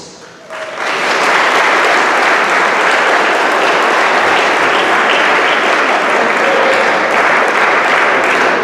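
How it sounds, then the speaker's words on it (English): Audience at a high school awards banquet bursts into sustained applause for a team's season, the dense clapping swelling in quickly after a brief quiet moment and staying loud and steady. "give them a round of applause for an amazing season"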